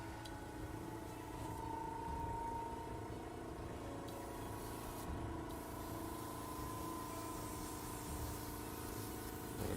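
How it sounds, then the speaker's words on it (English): Steady airbrush compressor hum with a faint hiss from the spray while miniatures for a Khorne Blood Crushers army are undercoated in light grey, running continuously and evenly throughout with no pauses. "a little bit of noise while I turn on the airbrush there"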